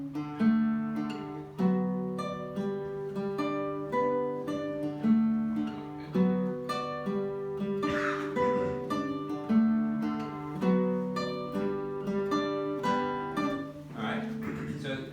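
Acoustic guitar plays a harmony line for an African tune in a workshop, steady repeating plucked phrases with a low drone underneath, moderately quiet and alone without talk.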